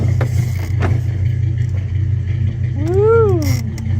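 A Bombardier vehicle's engine rumbles at a steady, close idle, then rises in a short rev that swells and falls back near the end, with a voice briefly audible.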